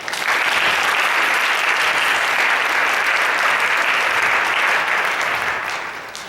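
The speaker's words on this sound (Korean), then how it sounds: "제대로 한번 박수 쳐보겠습니다." A church congregation applauds in one long, steady burst of dense clapping that fades slightly at the end.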